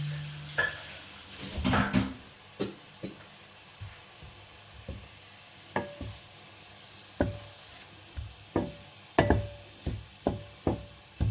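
Cooked rice tipped into a pan and stirred, soft sizzling under a string of spoon scrapes and knocks against the pan at a steady, unhurried rhythm, close and fairly quiet.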